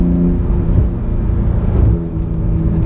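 A 2019 Porsche GT2 RS engine holds a loud, steady revving drone close up, with a few crackling pops near the end and no voices over it.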